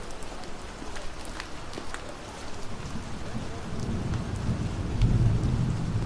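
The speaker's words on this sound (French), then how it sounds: "Et vu que l'ambiance pluie, il n'y a pas énormément de basses dessus, là on a toute la place pour rajouter des basses dans l'orage" A rain ambience for a film scene falls steadily and densely, with a bass-boosted thunderstorm rumble that swells louder and deeper in the second half.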